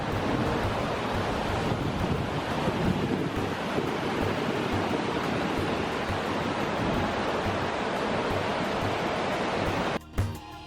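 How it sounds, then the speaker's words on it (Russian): Fast tidal seawater rushes and swirls through the Saltstraumen whirlpool in a continuous broadband roar, steady and fairly soft, with wind buffeting the microphone and a brief disturbance near the end. "вода несется с такой скоростью, да еще и закручивается в огромные вихри."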